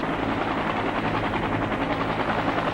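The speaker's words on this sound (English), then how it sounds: "Hour after hour, helicopters continued picking up loads of evacuees." Helicopters flying continuous shuttle runs during the Saigon evacuation, a steady dense rotor roar with low throbbing beats filling the whole stretch, loud and unbroken.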